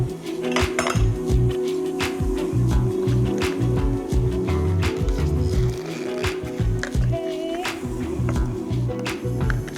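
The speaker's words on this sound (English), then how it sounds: "And let me just cut this lime. Okay. And let's get this juiced up." A lime is sliced and squeezed in a home kitchen while making chicken taquitos, with clinking dishes and utensils, soft knife taps and squishy juicing sounds over a steady low background hum.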